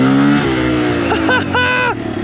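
A Kawasaki KLX140RF dirt bike with a 170cc big bore engine warming up, a steady loud idle hum that climbs into short revving bursts, with a voice audible partway through.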